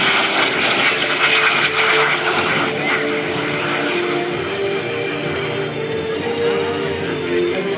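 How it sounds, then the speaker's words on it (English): A de Havilland Vampire jet flies at an airshow, its steady engine roar loud and sustained throughout, with an announcer talking over it. "here comes Jerry Conley, call sign Vlad, the DeHavilland Vampire."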